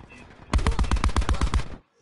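A burst of rapid SMG fire in a first-person shooter video game, about a dozen sharp close shots in a fast even rhythm lasting just over a second, then cutting off.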